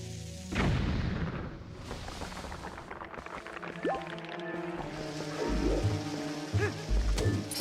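Bombs blast Dodongos in a Zelda-style video game, several dull booming explosions layered over a dense, busy game soundtrack, with a brief rising chime midway and more bursts near the end.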